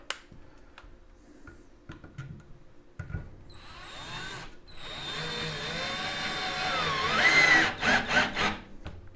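A Pulituo cordless drill whirs up and drives a small screw, its motor pitch climbing and bending under load before a few stuttering pulses as the screw seats. Light handling clicks come before it.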